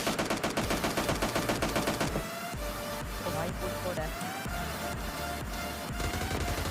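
VSS rifle gunfire in PUBG Mobile Lite: rapid, loud bursts of shots dominate the first two seconds, then the game's dense action noise and music continue, with faint shots mixed in.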